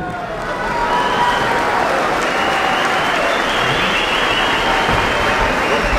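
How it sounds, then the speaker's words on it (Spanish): Audience applauding at an outdoor ballet performance during the Pawkar Raymi festival in Peguche, steady dense clapping swelling after the first second and holding loud and continuous to the end. "vamos a aplaudirles,"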